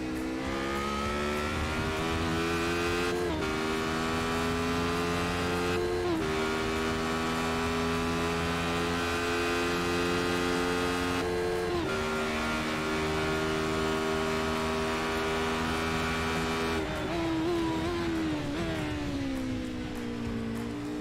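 A Radical race car at Elkhart Lake accelerating hard through the gears, its loud, close engine note climbing steadily before dropping briefly at each upshift, several shifts in a row with no voices.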